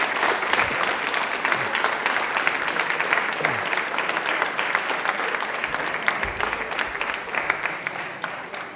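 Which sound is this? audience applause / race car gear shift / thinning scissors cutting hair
audience applause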